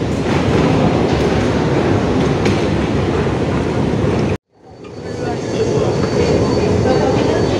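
A train rumbles loudly into a station in Singapore, its steady roar and clatter cutting out abruptly for a moment before the noise builds back up.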